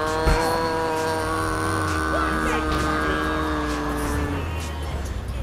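Ambulance siren and car engine sounds from the video game GTA 3, with harmonic tones sliding steadily under constant traffic noise, loud and close.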